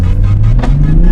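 Engine of a 2020 Toyota Supra GR with a loud turbo, driven in manual mode, revving steadily with its pitch climbing through the clip, heard close and loud from inside the car.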